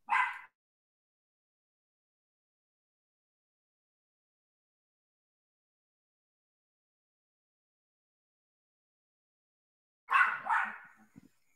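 A dog barks in two short bursts, one at the very start and another near the end, with a long silence between; indoors at home, no talk heard.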